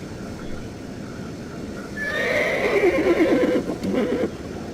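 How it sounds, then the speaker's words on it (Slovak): An albino horse in the video game StarShine Legacy whinnies loudly in a single drawn-out, quavering neigh lasting about two seconds, close and clear over a low background hum. "To je albínsky kôň."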